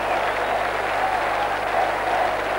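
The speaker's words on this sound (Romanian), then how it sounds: "șut al lui Hagi peste poarta lui Moraru, o acțiune aplaudată" A stadium crowd at a Steaua–Dinamo football match applauds, a broad continuous wash of clapping and crowd noise rolling evenly throughout, heard at a distance with a low hum beneath.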